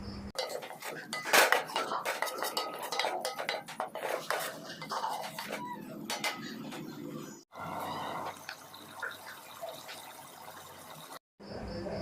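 A spatula scrapes and clatters steadily against a metal pot while a soybean and potato curry with coriander leaves and garam masala is stirred, with continuous close utensil knocks and a brief gap near the end.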